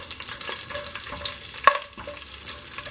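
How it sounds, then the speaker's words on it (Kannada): Cumin seeds, cinnamon, cloves, cardamom and green chillies fry in ghee with a soft, continuous crackling sizzle close by and a brief sharp tap of a stirring spoon midway. "ಇದೊಂದು ಅರ್ಧ ನಿಮಿಷದವರೆಗೂ ಜೀರಿಗೆನ ಚೆನ್ನಾಗಿ ತುಪ್ಪದಲ್ಲಿ ಫ್ರೈ ಮಾಡ್ಕೊಳ್ಳಿ"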